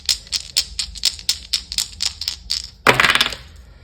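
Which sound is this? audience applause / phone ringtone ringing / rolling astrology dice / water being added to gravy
rolling astrology dice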